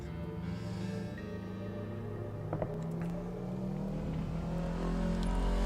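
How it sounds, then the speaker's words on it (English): A loud car engine drones steadily nearby, rising slightly in intensity toward the end as it passes. "Another loud-ass car."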